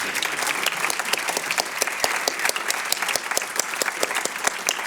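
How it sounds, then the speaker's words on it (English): Sustained applause from an audience, dense overlapping claps at a steady level throughout, sounding like a sizable crowd in a room. "I'd like to ask for a big round of applause for Al Weinrub."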